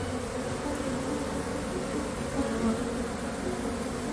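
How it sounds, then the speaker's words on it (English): Bees hum from a large hive built inside a water heater, a steady close drone that stays even throughout with no pauses and no talking. "Lots of bees here."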